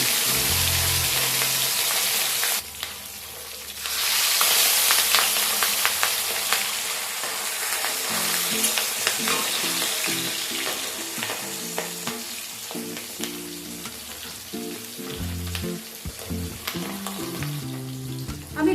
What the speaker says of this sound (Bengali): ভালো মতো তেল গরম হয়ে গেলে এবার মাছ আমি তেলের মধ্যে দিয়ে দিচ্ছি।